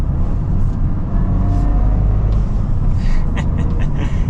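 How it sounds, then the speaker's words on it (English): A 2023 Toyota GR Corolla Circuit Edition on a drive, its turbocharged engine rumbling loudly up close with brief whooshing turbo and blow-off bursts between gear changes. "You can hear the turbo in between shifting."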